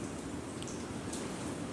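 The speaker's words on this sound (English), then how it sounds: "Heavy rain near your location." Heavy rain pours in a steady, even hiss with no breaks, close and moderately loud.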